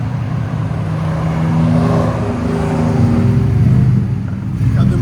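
A 1999-2004 Ford F-150 with a 4.6L V8 and true dual exhaust revs loudly and up close, a deep continuous rumble that swells and falls with the throttle, no voices heard.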